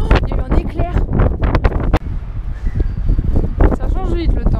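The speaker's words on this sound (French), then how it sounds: "Il y a du vent" Strong wind in Potosí, Bolivia, buffets the microphone with loud, continuous roaring gusts while people talk over it.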